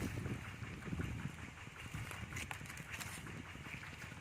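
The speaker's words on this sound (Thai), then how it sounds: "หนาวได้ลมแรง" Strong, cold wind blows outdoors, buffeting the microphone with a continuous low rumbling roar and gusty hiss throughout.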